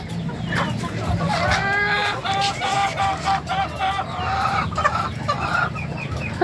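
A flock of 16-week-old RTL chickens clucks and calls busily close by, with overlapping rhythmic clucks and a few crowing-like notes throughout, and no talking.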